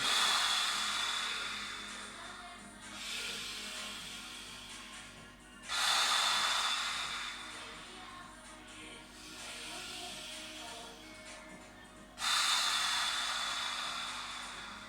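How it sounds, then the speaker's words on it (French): Forceful, rapid sniffing breaths drawn in through the nose during a pilates breathing exercise, close and loud, repeating in three long bursts of quick inhalations, each separated by a brief pause. "Inspirez par le nez 15 fois."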